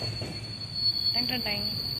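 Train running on rails in Kerala, heard from inside the carriage: a steady rumble with a constant high whine and brief wheel squeal, fairly quiet, with faint voices in the background.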